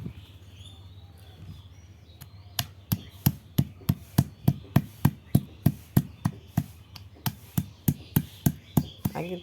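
Raw mango, garlic, salt and green chili pounded into paste, a series of sharp, regular thuds about two or three per second, close and distinct, with faint birdsong in the background.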